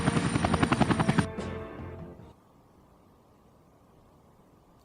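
A helicopter in the video game Air Conflicts: Vietnam, with loud rhythmic rotor chopping that fades after about a second into a quieter whine, then a low steady rumble.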